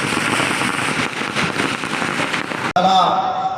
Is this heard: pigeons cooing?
no